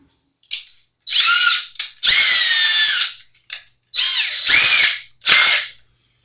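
A handheld drill whines in short bursts, marking spots on a Jackson Dinky guitar neck part, starting and stopping several times with brief silences between each run.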